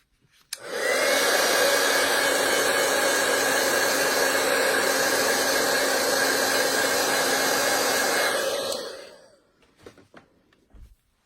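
A hair dryer runs steadily for about eight seconds to dry a watercolor painting of an apple made with aqua painters, a loud, close, continuous whir that starts abruptly and winds down near the end.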